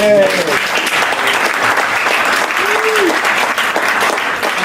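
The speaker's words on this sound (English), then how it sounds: "Can the rest of us give this group a round of applause?" A workshop group in a placemaking session gets a round of applause from the room: dense, steady clapping from many hands for nearly five seconds, with a few voices calling out over it.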